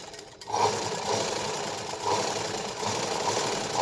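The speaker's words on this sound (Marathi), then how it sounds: "तर आता आपल्याला दाब शिलाई द्यायची" A sewing machine runs a steady topstitching pass along a blouse lining, its motor whirring in an even, continuous drone with slight pulsing, close and moderately loud, starting after a brief pause.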